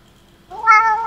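A single drawn-out cat meow rising in after a quiet start, close and clear, alone.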